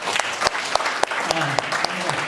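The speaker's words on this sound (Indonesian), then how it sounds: "Tepuk tangan untuk Indonesia." An audience at a talk honoring Jaya Suprana bursts into dense, sustained applause, with a few louder claps standing out at a steady beat and a voice faintly underneath.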